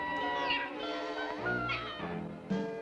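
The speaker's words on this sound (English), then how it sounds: "And such a sweet kitty cat." A cartoon cat meows in a drawn-out, wavering call over a busy layer of background music and effects, at moderate level.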